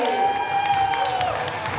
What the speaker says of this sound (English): let's give a round of applause to our head of sales, Piaggio Asia Pacific, Mr. Axel Fay, everybody!